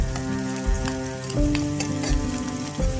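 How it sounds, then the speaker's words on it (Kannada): Chopped onion frying in an oil-lined pan with cumin for a restaurant-style egg masala, a steady close sizzle with occasional soft crackles and stirring knocks, no voices. "ಆನಿಯನ್ನು ಅಷ್ಟು ಫ್ರೈ ಮಾಡ್ಕೊಳ್ಳೋಣ"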